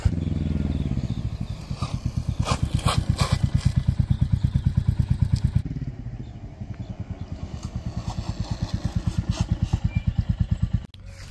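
A Royal Enfield Classic 350 single-cylinder motorcycle engine thumps steadily nearby, rising briefly with a couple of light revs before settling back to an even idle.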